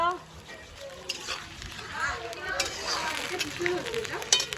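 Ginger paste goes into hot oil with cumin and onion for a Bengali egg curry, giving a steady sizzle and frying crackle with scraping stirring strokes, while a voice talks faintly over the cooking.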